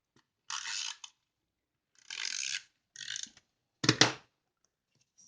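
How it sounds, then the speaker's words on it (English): A snail adhesive tape runner rolls tape onto paper in several short rasping bursts, three soft strokes followed by a sharper, louder click, close and quiet with nothing else around. "I'm using the snail adhesive tape runner."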